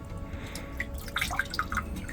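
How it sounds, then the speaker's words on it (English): Water trickles and drips while being drained off a gold milling tank, with a run of small, close droplet plinks and splashes over a low steady background. "Drain off the water."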